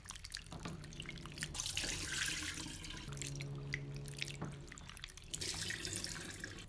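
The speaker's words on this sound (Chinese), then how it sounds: "然后用清水洗两遍，把表面的盐水洗掉一部分" Salted cucumbers are rinsed with clean water in a kitchen: tap water runs and splashes steadily with light sloshing and dripping throughout.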